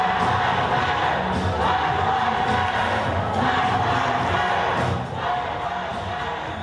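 Crowd chanting and shouting at a Jeb Bush campaign event, a dense, loud wash of many voices that holds steady throughout and dips slightly near the end.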